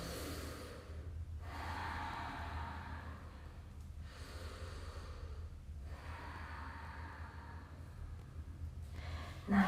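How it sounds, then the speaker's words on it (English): Slow, deep breaths during a family yoga session: long airy inhales and exhales in a steady rhythm with brief pauses between them, close and fairly soft, with no talking. "Take another 3 breaths here."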